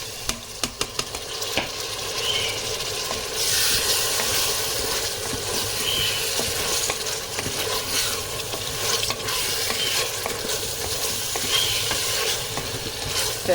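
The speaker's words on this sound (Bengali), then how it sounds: "নাড়াচাড়া করে একটু ভাজা ভাজা হয়ে যাবে" Lentils (dal) stir-fry in a hot pan with a steady, continuous sizzle, broken by frequent scraping and clinking strokes of the stirring spoon, close and even throughout.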